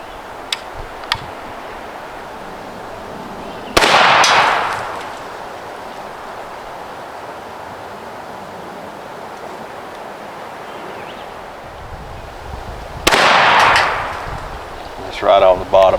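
A Savage Stevens 555 over-and-under shotgun fires twice from the bottom barrel with lighter loads, two sharp loud blasts several seconds apart, each trailing off into an outdoor decay, with faint ticks before and a brief rustle at the end.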